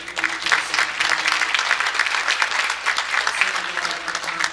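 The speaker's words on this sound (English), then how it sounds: "Let's give them a nice round of applause." A crowd at a bowling center tournament, the USBC Senior Masters finals, applauds warmly, giving steady, dense clapping from many hands throughout.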